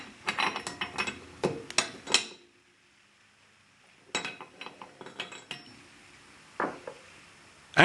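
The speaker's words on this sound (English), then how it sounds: "Place the actuator bushings with the O-rings and tighten using a size 27 spanner." A size 27 spanner tightens valve actuator bushings fitted with O-rings, giving sharp metallic clinks and ratcheting clicks in short bursts separated by quiet pauses, close and fairly soft.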